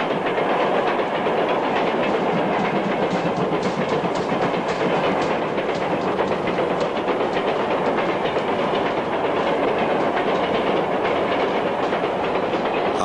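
A steam engine rumbles along on rails with a loud, steady clickety-clack and hissing roar that continues without a break, with no voices.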